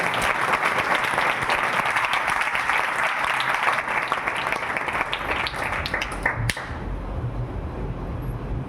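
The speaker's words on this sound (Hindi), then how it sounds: "इनके लिए एक बार जोरदार ताली बजाइए।" Loud, dense applause from a church congregation honoring a brother of the fellowship, sustained for several seconds before thinning out and fading under room noise.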